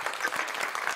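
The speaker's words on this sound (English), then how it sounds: "That clap is for you" Brief round of audience clapping at a couponing talk, a quick burst of many hands, close and fairly loud, lasting about a second.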